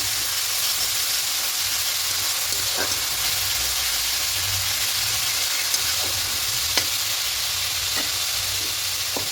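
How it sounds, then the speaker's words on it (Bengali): Garlic and onion paste sizzles and hisses steadily in hot oil for a Bengali bhola fish curry, with faint stirring scrapes now and then, loud and close, no voices. "রসুন পেঁয়াজ পেস্টটা যেটা করেছিলাম দেবো একটু ভালো করে কষিয়ে নেব"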